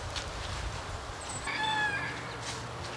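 A seven-week-old rooster gives a brief, thin crow partway through, somewhat distant, over steady outdoor background noise.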